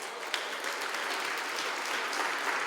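A church congregation claps steadily together, a dense, even wash of applause that runs unbroken and fairly loud, with no talking on top.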